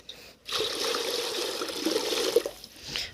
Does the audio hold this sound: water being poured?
yes